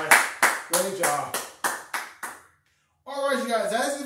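A workout class applauds at the end of a session: seven sharp, evenly spaced bursts of clapping, close and loud, then a brief silence before an instructor speaks.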